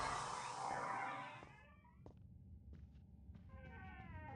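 Mrs. Norris, the cat in a Harry Potter and the Philosopher's Stone video game, gives a couple of short, quiet meows against low game background noise, following a brief burst of louder sound at the start.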